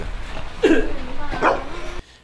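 A few short, close barks from dogs at a farm kennel, two distinct yelps about a second apart over a low background murmur.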